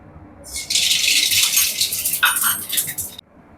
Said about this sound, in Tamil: கடுகு கொஞ்சம் போட்டுக்கலாம்.